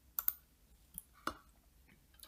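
Several sharp, quiet clicks of a computer mouse during AutoCAD drafting, spaced irregularly with two close together at the start and single ones after, alone in a near-silent room.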